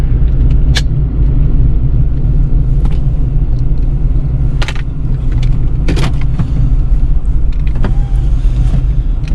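Steady low exhaust drone and rumble inside the cabin of a Pontiac G8 GT with its old exhaust setup, cruising in normal drive mode on light throttle, loud and continuous with a few faint clicks and rattles over it.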